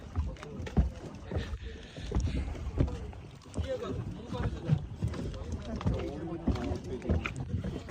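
Small boat ride across the Deras Dam reservoir near Bhubaneswar, Odisha, with water sloshing and steady outdoor noise continuing throughout, while several people chat close by.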